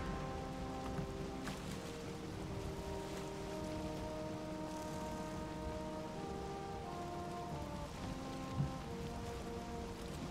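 Steady rain patters in the video game Valheim, a continuous soft hiss layered under low droning ambient tones, with a faint thump near the end and no talking.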